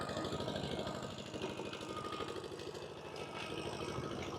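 A tractor engine idles with a steady low mechanical chugging, constant and moderately close, with no talking over it.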